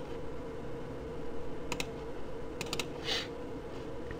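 Sharp mouse clicks in Adobe Photoshop, a quick double click near the middle and a close cluster of clicks after it, over a steady low room hum with no talking.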